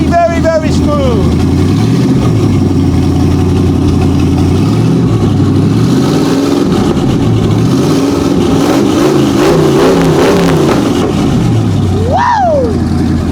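A car engine mounted on a wagon frame idles loudly and rises in a few revs, a steady close drone, while people talk over it and someone whoops near the end.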